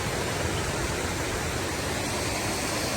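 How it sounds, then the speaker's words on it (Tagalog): A waterfall on a river at Paraiso de June Quijote pours in a constant, dense roar of rushing water that stays steady and unbroken throughout, with no voices. "ang dami nilang waterfalls guys"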